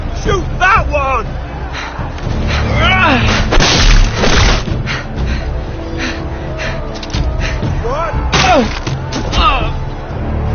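Gunfire and explosive booms from a PS4 shooter game ring out repeatedly in short bursts, mixed with excited shouting from players talking over the action throughout.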